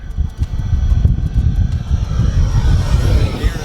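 A miniature radio-controlled F-16 jet fighter model roars past overhead on a low pass, its engine a loud continuous whoosh that swells and then shifts in pitch as it moves away, with no talking.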